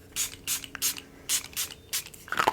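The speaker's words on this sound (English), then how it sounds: "Now we're going to go in with another layer of setting spray." Makeup setting spray misted onto the face, seven or eight short close hissing pumps in a fairly even rhythm, followed by a small clattering handling noise at the end.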